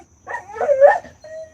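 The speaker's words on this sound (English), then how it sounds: "Wag his tail at me and keep barking" A single dog gives a short, close whining bark followed by a brief trailing whine, loud against a quiet room.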